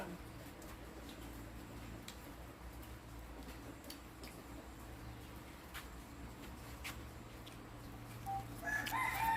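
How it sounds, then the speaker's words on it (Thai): A rooster crows faintly in the distance at a rural home during rain, its call sitting low under a steady wash of rain-like background noise that swells slightly toward the end. "เจอแล้วโกโกโกไก่ผู้ชาย"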